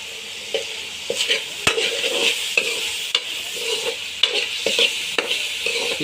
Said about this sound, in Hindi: अब हम इसके अंदर ये प्याज ऐड करेंगे, ये आप देख सकते हैं।